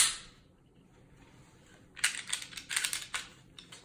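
A Smith & Wesson M&P Shield M2.0 pistol slide racked back to check the chamber, a quick cluster of sharp metallic clicks and clacks close by after a quiet pause, no talking.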